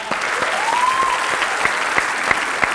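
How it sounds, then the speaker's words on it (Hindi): Audience applause at a Haryanvi poetry recital, a steady wash of many hands clapping continuously throughout at a fairly loud level, with a few sharper individual claps standing out. "तो एक दफा ताली बजा दीजिए"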